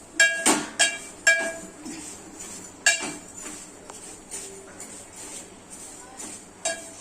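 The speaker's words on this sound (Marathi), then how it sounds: "आता मी परतून घेणार आहे." A metal spoon clinks and scrapes against a pot while vermicelli is stirred and roasted for kheer, sounding as irregular sharp taps spaced about a second apart, close by.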